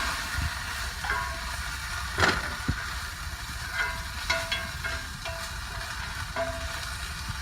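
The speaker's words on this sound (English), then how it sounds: "now while our beef is simmering" Ground beef with milk stirred in bubbling and sizzling steadily in a pan, a soft continuous hiss with a few faint clinks, no talking.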